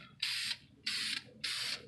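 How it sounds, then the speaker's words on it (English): Three evenly spaced hisses from a spray can of red vinyl dye as it mists a cosplay mask from about 14 to 15 inches away, each burst short and crisp with quiet gaps between. "I'm going to use this to gradually spray over the whole piece from a distance of about 14-15 inches"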